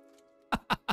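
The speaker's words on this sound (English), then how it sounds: "The cough. So good." Three sharp coughs in quick succession, close and loud, after a faint, steady background hum.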